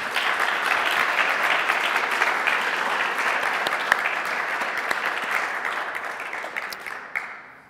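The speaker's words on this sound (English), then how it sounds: "So let's have another big round of applause" Sustained audience applause after an introduction at a Gnomon studio presentation, dense steady clapping from a sizable crowd that holds for several seconds and thins out near the end.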